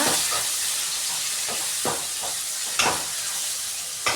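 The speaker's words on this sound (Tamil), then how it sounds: "இப்போ கருவேப்பிலை கொத்தமல்லாம் லைட்டாக தூவி விட்டுக்கலாம். தூவி விட்டு நல்லா வதக்கிக்கோங்க." Curry leaves and coriander sizzle steadily in a hot pan, with a spatula scraping and stirring in irregular strokes over the constant frying hiss.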